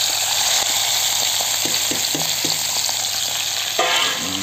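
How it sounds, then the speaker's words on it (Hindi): Chicken leg pieces frying in hot oil give off a loud, steady sizzle up close, with a few soft stirring knocks partway through and a brief burst of fresh spatter near the end. "एवे मांस के टिके भाजी दमा भल से टिके"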